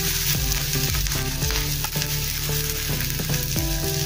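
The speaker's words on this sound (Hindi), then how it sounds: "प्याज और हरी मिर्च डालेंगे। इसको थोड़ा सा नरम करेंगे।" Onion and green chili fry with cumin in a hot pan, giving a loud, close, continuous sizzle with rhythmic stirring scrapes and clinks throughout.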